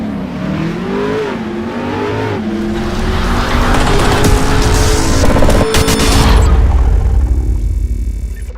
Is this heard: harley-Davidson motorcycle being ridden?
yes